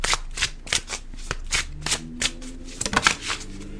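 A Lenormand card deck is shuffled by hand, a rapid series of crisp riffling and slapping bursts in an uneven rhythm, close and clear with no speech.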